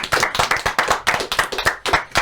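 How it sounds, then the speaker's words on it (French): Show audience clapping in a quick, rhythmic unison beat, sharp near claps repeating steadily for a couple of seconds with no talk. "on vous applaudit encore."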